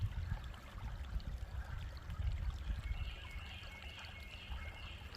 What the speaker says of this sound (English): We could stop here and listen to the babbling brook.